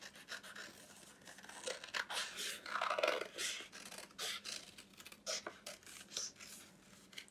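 Scissors carefully cutting around folded paper wings, a series of faint close snips and rustling paper scrapes in irregular bursts, quiet and without talk.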